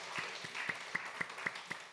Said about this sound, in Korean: 하나님 앞에 영광의 박수 올려드립시다.